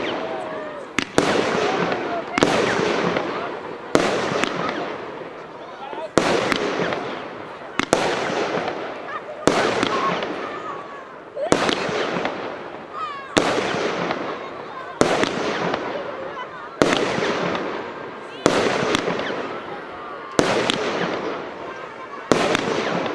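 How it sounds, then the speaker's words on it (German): Polish triplet fireworks fire in a rapid series of sharp, loud bursts, each crack followed by a short crackling tail, repeating steadily about every second or two at close range during a New Year's product demonstration. "Das sind noch Triplets aus Polen."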